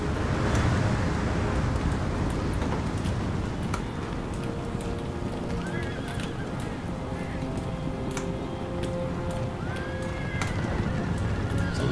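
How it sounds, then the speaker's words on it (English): Russian light cavalry charging across an Empire: Total War battlefield, with drumming hoofbeats and repeated horse whinnies over a steady rumbling battle backdrop, quieter and with no talking. "All those Russians sure love their cavalry."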